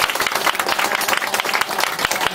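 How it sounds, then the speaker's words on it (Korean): Brisk, dense clapping from an audience at a lecture hall talk, loud and close throughout the short burst, with no voices over it. "박수 한번 쳐봅시다."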